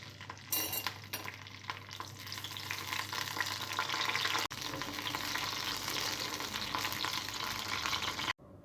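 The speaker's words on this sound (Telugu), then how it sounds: "ఆయిల్ వేడైన తర్వాత పచ్చిమిరపకాయలని ఫ్రై చేసుకోవాలి." Green chillies frying in hot oil in a pan, a loud, steady, close sizzle with occasional stirring clinks, broken briefly by a couple of sharp cuts in the sound, and no voices.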